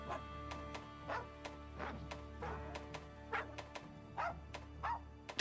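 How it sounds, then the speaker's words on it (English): A dog voice option plays in the Monster Hunter Rise character creator: a series of short barks, about eight, spread out over a steady game music backdrop. "Now we pick a dog voice."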